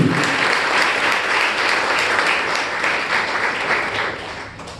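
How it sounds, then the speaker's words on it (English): A Toastmasters meeting audience gives a dense, steady round of applause for a member finishing her speech project, sustained at an even level throughout before easing slightly at the end. "Let us give Jyoti a big round of applause for completing her CCT"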